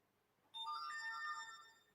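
A phone ringtone starts abruptly and rings on steadily as a bright electronic melody, fairly loud and close, with no talking over it.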